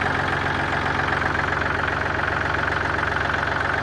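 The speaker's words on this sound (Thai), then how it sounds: "ทำการสตาร์ทให้เบิ่งไหมครับพี่น้อง เจอว่าสตาร์ทติดง่ายครับ" A Yanmar 39 hp tractor engine idles steadily, close and loud, with an even, rapid chugging rumble that holds constant throughout and no speech.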